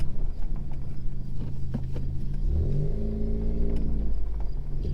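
Manual Ford Fiesta ST being rebuilt after a wreck, driving off and accelerating, a low engine rumble that rises in pitch as revs climb, with cabin knocks and thumps.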